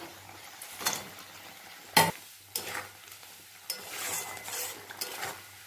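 Paneer frying in a pan with salt and chili powder, a soft sizzle under scraping stirs and sharp utensil clinks against the pan, close and fairly quiet with no talking.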